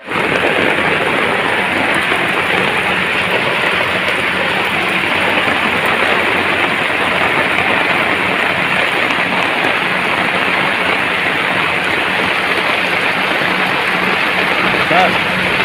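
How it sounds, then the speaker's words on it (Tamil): Steady rain falls as a dense, continuous hiss for about fifteen seconds, loud and even throughout, with no pauses or other sounds standing out. "மழை வருது"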